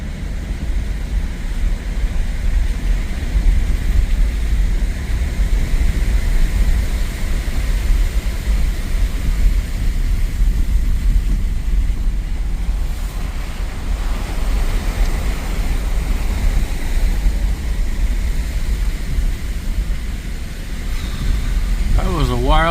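Car driving with heavy low rumble and wind buffeting the microphone, loud and steady throughout, a voice speaking under it.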